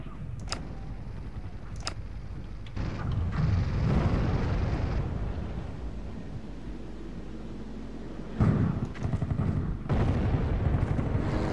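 Explosions in the video game Sniper Elite, set around a square and cathedral: a couple of sharp reports followed by a long rumbling roar that swells, eases, then bursts again with a second heavy blast near the end.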